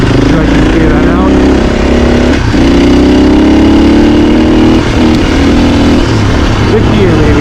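Engine of a 2024 Husqvarna FE450 dirt bike, loud and close, holding a steady drone with brief dips and pitch shifts as the throttle changes, engine noise filling the whole span without pause.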